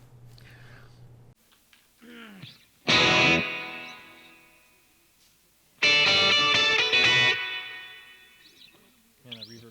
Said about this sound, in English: He plays an electric guitar and does it quite well.